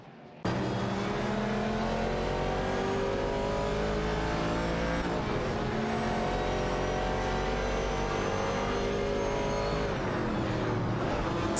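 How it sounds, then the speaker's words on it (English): Several race cars in an AI-driven racing video game roar continuously at close range, engines revving and shifting pitch as they battle side by side for position, with a sustained loud, dense drone throughout. "The three cars are engaged in a tight battle for position."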